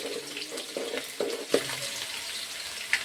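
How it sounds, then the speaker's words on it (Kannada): Garlic frying with peanuts and lentils in a pan for an egg tomato masala rice gives a soft, steady hiss, broken by a few light clinks and scrapes and one sharper knock, heard close with no talking. "ಬೆಳ್ಳುಳ್ಳಿ ಹಾಕ್ಕೊಂಡು ಚೆನ್ನಾಗಿ ಫ್ರೈ ಮಾಡ್ತೀನಿ."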